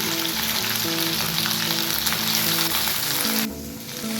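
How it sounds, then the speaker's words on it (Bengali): Okra crackles and sizzles in hot mustard oil in a kadai, a bright, continuous frying hiss up close that drops off suddenly toward the end. "এবার ঢেঁড়সগুলো তেলের মধ্যে দিয়ে দিলাম"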